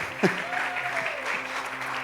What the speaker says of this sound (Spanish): yo le voy a pedir que lo recibamos hoy con un fuerte aplauso